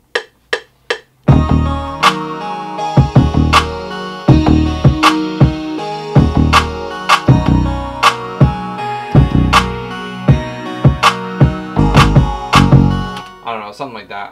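Bass line programmed in FL Studio during music production, playing as a series of punchy, rhythmic low notes with sharp attacks under a loud electronic beat.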